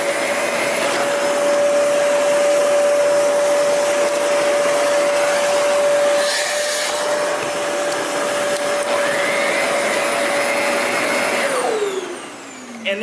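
A Zero G floating vacuum cleaner runs steadily with a loud whirring motor hum that holds for most of the stretch, then winds down near the end, no voices.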